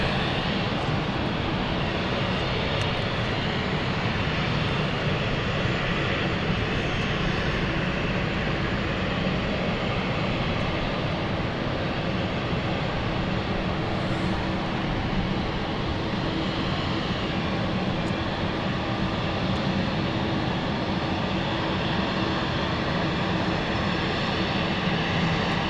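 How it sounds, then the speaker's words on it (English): Fixed-wing aircraft engine roaring steadily at London City Airport, a loud, continuous broadband rumble and whine holding level throughout with no talk. "Beautiful aircraft, this one."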